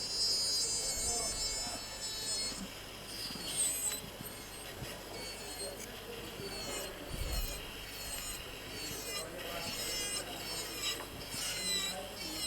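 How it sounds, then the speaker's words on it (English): High-speed surgical drill grinding on thinned temporal bone next to the dura, a continuous whining, rasping burr with shifting intensity over roughly twelve seconds, with faint voices in the background. "The sound that drilling in this area is making."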